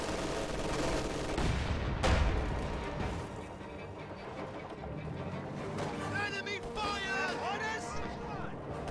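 Video game gunfire crackles in bursts, strongest early with a sharp loud shot, then continues at a lower level beneath game noise and a voice speaking.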